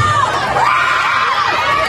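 Crowd shouting and cheering at an outdoor mayoral campaign rally in Pasig, a dense, loud wall of voices with whoops and children's shouts sustained throughout.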